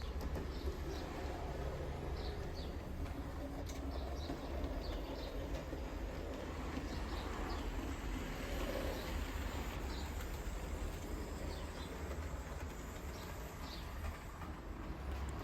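Hornby Ruston & Hornsby 88DS model diesel shunter running laps of a model railway layout, a steady faint whirring rumble that continues for the whole stretch, with some distant bird cooing in the background and no voices.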